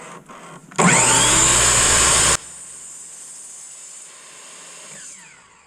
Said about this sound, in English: And then use your miter saw.